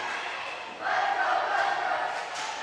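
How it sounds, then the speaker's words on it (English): Crowd cheering and shouting at a high school girls' volleyball match on senior night, swelling suddenly into a loud, sustained roar of many voices in a gym, then easing slightly. "crowd comes alive here on senior night."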